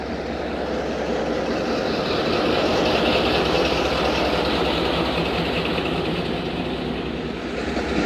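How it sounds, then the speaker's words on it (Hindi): The 7 Up Tezgam passenger train pulls out on the Karachi line with a diesel locomotive, a loud, steady engine rumble and rail drone holding close and even throughout, with no voices. "सेवन अप तेज़गाम रवाना हो गई है दोस्तों"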